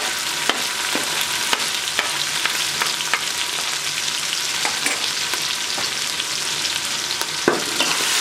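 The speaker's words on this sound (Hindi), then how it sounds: "प्याज अच्छे तरीके से फ्राई हो चुका है।" Onions and green chilies frying in a pan for masoor dal tarka, a continuous close sizzle with scattered crackles and pops, no voices.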